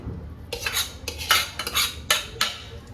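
A spoon mixes soybean paste in a pan, producing a series of close, irregular scraping and clinking strokes, about five distinct bursts separated by brief pauses.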